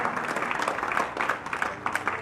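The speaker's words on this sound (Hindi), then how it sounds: "जोरदार तालियों से एक बार पुनः नरेश जी का स्वागत करें" An audience applauding to welcome a speaker at a public gathering, steady dense clapping from many hands, fairly loud and sustained for the whole stretch.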